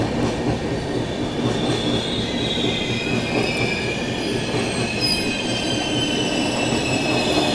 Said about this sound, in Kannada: ವೈಷ್ಣೋದೇವಿ ಕಾಟ್ರಾಯಿಂದ ತಿರುನಲ್ವೇಲಿಗೆ ಹೋಗುವಂಥ ಎಕ್ಸ್ಪ್ರೆಸ್.